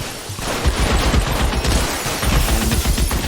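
Rapid bursts of gunfire from the video game LA Noire, dense overlapping shots and impacts rattling loudly and continuously through the whole stretch.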